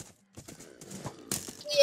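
Horse hooves clip-clop in a video game as a horse is ridden and trained, light uneven clopping beats scattered through quiet game sounds with a louder burst near the end.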